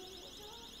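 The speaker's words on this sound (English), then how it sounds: "the alarm on something is going off" A store security alarm sounds inside a discount clothing shop, a steady high electronic tone held continuously and fairly faint, with no talk over it.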